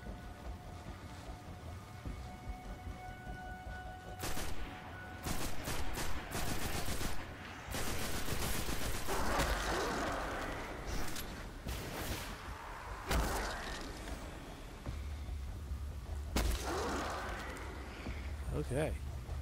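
Volleys of close gunfire from the player's weapon in Destiny 2 on PS4, sounding in repeated bursts of varying length, with someone talking over part of the shooting.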